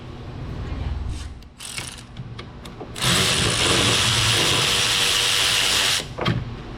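Ratchet wrench turning a bolt out on a 2010 Chevrolet Equinox 3.0 AWD, with a few quick bursts of clicking followed by a long steady stretch of rapid ratcheting up close.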